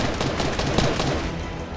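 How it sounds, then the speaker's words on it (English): Gunfire in the video game Fortnite, a dense continuous burst of rapid shots with no pauses, loud and close throughout. "Oh, I can hear people shooting."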